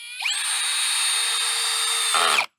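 A power drill driving a screw into plastic while building nursery benches, one close, loud, steady whine that spins up, holds for about two seconds, then bogs slightly and cuts off abruptly.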